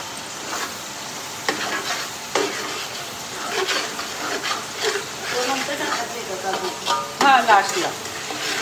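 Masala for paneer matar masala sizzles in hot oil while a spoon scrapes and stirs it in the pan. The frying hiss runs steadily, with a brief bit of speech near the end.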